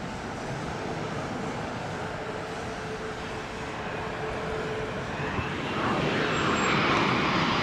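A Boeing 757 airliner landing in gusty crosswind, heard as a steady distant jet roar mixed with wind noise that swells louder toward the end.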